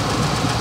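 A 1979 Range Rover Classic's V8 engine runs smoothly at a steady idle, a brief low hum close up.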